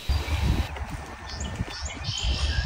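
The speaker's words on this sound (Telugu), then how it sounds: "ఆ బర్డ్ సౌండ్స్ వినండి" Birds chirp by the St. Lawrence River in Canada on an evening walk, a few faint, short calls sounding through a steady low outdoor rumble and footstep-like noise.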